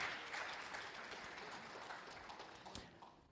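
Applause from a class in a Brazilian university calculus lecture on limits, a faint, distant patter of hand claps that holds steady for a few seconds before thinning out.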